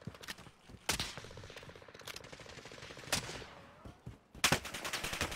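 Gunfire in the video game Warzone, bursts of rapid automatic shots mixed with single sharp reports, scattered across the moment at varying distances, fairly quiet overall with no talking.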